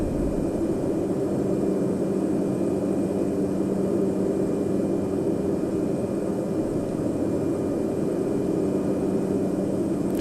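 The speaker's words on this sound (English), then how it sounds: "There's 70 knots. We're going to rotate, and we're airborne." A small plane climbs just after takeoff, heard from inside as a steady, loud engine drone mixed with broad cabin roar that holds constant, with no talk.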